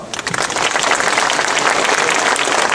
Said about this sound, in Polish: Szanowni Państwo, gorące brawa.